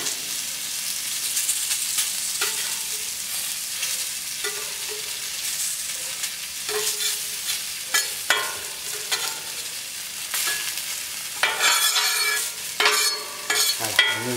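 Courgettes sizzle on a hot plancha, an even close frying hiss with occasional scraping and shuffling as they are moved, louder bursts near the end, no voices.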